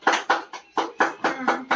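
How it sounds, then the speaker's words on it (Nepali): Applause from a crowd at a lamp-lighting inauguration ceremony for a Dalit uplift association in Morang, Nepal: several sharp bursts of clapping in a steady rhythm, fairly close and loud, with no talk over it. "ताली हान्दै आजको कार्यक्रममा उद्घाटन गरौँ"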